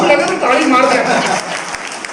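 An audience at a Hindi kavi sammelan poetry gathering breaks into applause, a dense burst of clapping mixed with a voice that fades after a couple of seconds.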